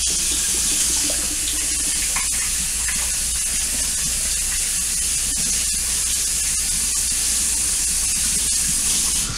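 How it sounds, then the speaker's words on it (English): Tap water runs steadily into a kitchen sink while hands are washed under it. The hiss of the stream is close and continuous, with faint splashing and no voices. "we're going to wash our hands good."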